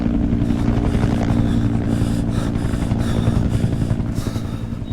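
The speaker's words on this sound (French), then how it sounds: "C'est quoi ce bruit là d'hélico là?" A helicopter's steady rotor thrum and engine whine in the video game Road 96 fill the scene continuously, loud and close, with a low pulsing beat throughout.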